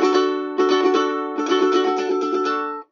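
Ukulele strums left ringing without left-hand muting, two bright sustained chord bursts with a short gap between them, close and loud, then fading off at the end.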